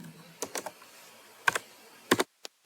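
Short bursts of keystrokes on a computer keyboard while HTML code is typed: a few quick clusters of crisp, close clicks separated by brief pauses, with no voices.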